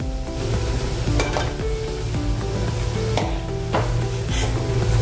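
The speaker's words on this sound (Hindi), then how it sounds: "अभी ये तैयार हो गए हैं अच्छे से तलकर।" Stuffed raw tomatoes fry in hot oil with a steady, close sizzle, broken by occasional clinks and stirring of the pan, no voices.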